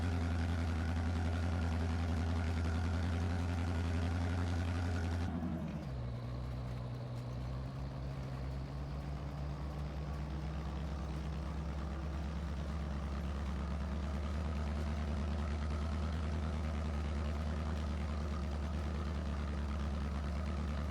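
Farmall 806 tractor in Farming Simulator, its engine idling with a steady low rumble; after about five seconds the pitch drops as the engine settles into a lower, even drone for the rest of the stretch.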